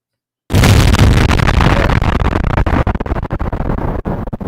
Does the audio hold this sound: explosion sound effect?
yes